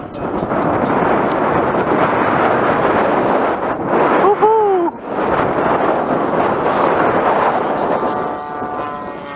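Strong wind roars steadily across the microphone at a model airplane flying field, a thick continuous rumble with a brief dip midway and a faint whining tone rising and falling under it.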